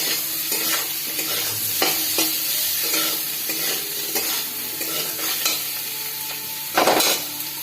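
Chopped banana flower (mocha) frying and being stirred in a pan: a steady loud sizzle with repeated scraping strokes of a spatula and a sharper clatter near the end, no talk.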